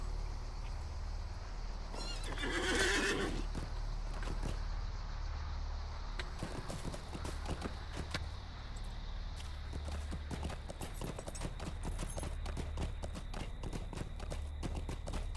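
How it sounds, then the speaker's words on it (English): A horse in the Lord of the Rings Online game whinnies once early on, then its hooves clip-clop in a brisk, steady rhythm while it is ridden along, with no talk over the sound. "I'm gonna ride my horse."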